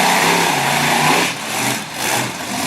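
The big red Chevy monster truck Hot Tamale roars at an arena show in Manassas, Virginia, its loud engine holding a rough, rumbling drone that dips and surges twice.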